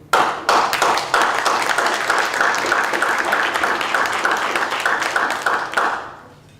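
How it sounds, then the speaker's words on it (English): Applause at a city council meeting: a few sharp claps open into steady, dense clapping from a roomful of people, held at an even level before tapering off abruptly near the end. "I applaud you."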